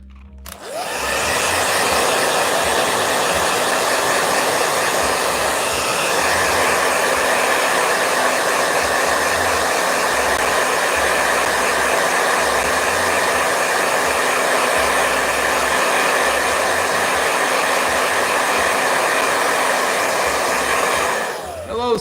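A blow dryer runs loud and close, a steady, unbroken whoosh and whine that holds for over twenty seconds with no other sound over it.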